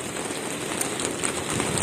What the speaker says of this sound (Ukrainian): І ось якраз як я вибралася, тут розпочався дощ.